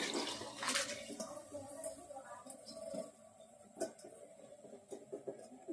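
Soaking water from rice poured into a chicken biryani pot, a splashing, trickling stream of liquid that comes and goes with brief clinks, close and moderately loud.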